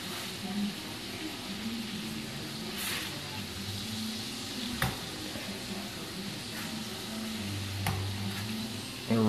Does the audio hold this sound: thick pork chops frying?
yes